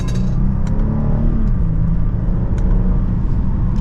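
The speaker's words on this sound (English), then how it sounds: "Plenty of power for that minor acceleration in this GV80." A 2024 Genesis GV80 AWD SUV pulls away in sport mode, second gear, heard from inside the cabin as a smooth, rising engine hum with steady road rumble and little exhaust noise.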